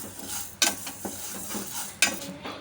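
Roasted gram, peanuts, cashews and almonds tossed and roasted in a pan, with a soft dry rustle under scraping and two sharp clacks of a spoon against the metal.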